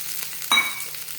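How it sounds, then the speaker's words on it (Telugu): Roasted peanuts dropped into hot tempering oil for a coconut-peanut chutney give one sharp close sizzling burst that settles into a softer, steady crackle over a low background hiss. "ఇప్పుడు ఇందులో ముందుగా ఫ్రై చేసి పెట్టుకున్న పల్లీలు కూడా వేసి"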